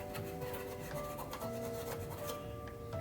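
A file rasps across the contact of a lock relay from a 1974 Williams Star Action pinball machine, repeated short scraping strokes, close and fairly quiet, over a steady background hum.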